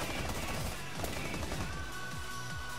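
Rapid automatic F2 rifle fire in the Rainbow Six Siege video game, a dense burst of repeated gunshots at close range that carries on without pause.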